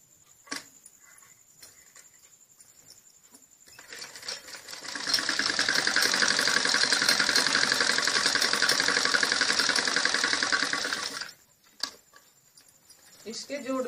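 Sewing machine stitching a salwar waistband seam, a steady continuous motor whir lasting several seconds after quieter handling sounds, then stopping abruptly.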